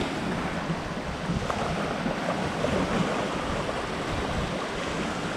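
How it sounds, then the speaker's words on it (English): Strong autumn wind sweeps across a Minnesota lake shore, a steady, loud broadband roar with buffeting against the microphone and a faint wash of water beneath, with no voices. "that wind is something else"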